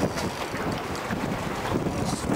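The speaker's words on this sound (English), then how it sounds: "Good windy out here now." Wind gusts buffet the microphone on a fishing boat at sea off Aitutaki, a rough, blustery roar with uneven surges mixed with faint water wash, loud and close, with no talk.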